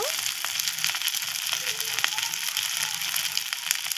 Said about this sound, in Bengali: একে বেশি ভাজা ভাজা করব না